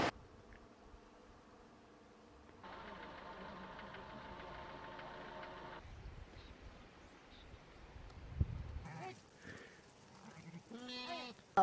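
Faint outdoor spring farm ambience in Şavşat, Turkey with a steady buzzing drone of bees, and a few soft lamb and goat bleats toward the end, distant and low in level.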